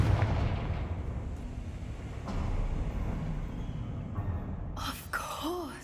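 A Confringo spell explosion in the Hogwarts Legacy video game, a rumbling blast with crackling debris that stays loud for several seconds. A short sharp effect and some tonal game sounds come near the end.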